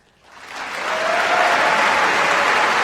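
Audience applause swells in after a brief quiet start and holds as a dense, steady roar of many hands welcoming the Boise State University president, Dr. Bob Kustra, at the fall 2016 convocation.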